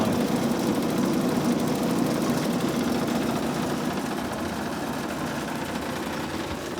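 A 1953 Magic Chef 9,000 BTU room air conditioner's Tecumseh B series compressor runs with a loud, even, vibrating drone and rapid mechanical chatter, heard up close without talk.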